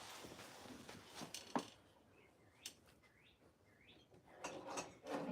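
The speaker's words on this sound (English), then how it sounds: "I hear some birds outside." Faint bird chirps come from outside, a few short rising calls in the middle of the span, heard under louder nearby indoor clatter and handling noises.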